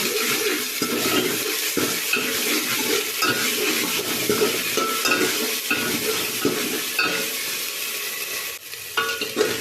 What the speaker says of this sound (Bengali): ঘিয়ের সঙ্গে আদা রসুন বাটাটা একটু ভেজে নেব